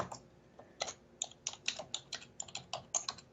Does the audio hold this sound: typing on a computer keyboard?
yes